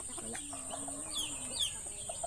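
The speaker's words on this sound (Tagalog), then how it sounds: "Puro bulik yung manok dito." Farmyard chickens heard at moderate distance, with several short clucks and chirpy calls scattered over a steady ambient hiss and a persistent high tone, no voices.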